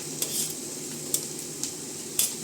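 Onions and chillies fry in hot oil, giving a steady close sizzle broken by several sharp clinks of a utensil stirring against the pan.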